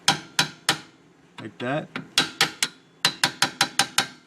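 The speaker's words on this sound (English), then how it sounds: "I'm gonna put a pin over here and hammer it backwards, forwards the car" A hammer drives a pin to knock out a worn trailing arm bushing on a Hyundai Elantra, making loud, sharp metallic clanks in quick rhythmic runs, briefly interrupted by a short spoken remark and a scraping rattle.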